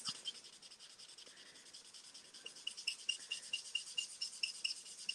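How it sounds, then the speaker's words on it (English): A nylon blending nib rubs across paper, blending light pumpkin pie colour ink, giving soft scratchy strokes that grow louder and more rhythmic, repeated back-and-forth rasps up close with no talking. "that sound is not me pressing loudly. It's just the nylon on the paper"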